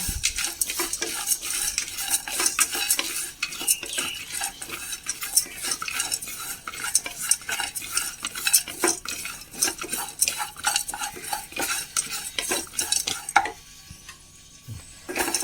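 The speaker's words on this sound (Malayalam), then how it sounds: "രണ്ട് മൂന്ന് ഏലക്കയുടെ തൊലി കളഞ്ഞത് കുറച്ച് എള്ളും കൂടി ചേർത്തിട്ടുണ്ട് അതും കൂടി ഒന്ന് ഒന്ന് ജസ്റ്റ് ഒന്ന് മൂപ്പിച്ചെടുക്കാം" Peeled cardamom and sesame seeds are dry-roasted in a pan, with a spoon scraping and stirring continuously and a faint sizzle beneath, close and with no voices.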